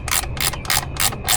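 A ratchet fitted with a 5/16 socket loosens a long bolt on the battery terminal of a Gen3 Ford F150 Raptor, its pawl clicking in five quick bursts of rapid ticks.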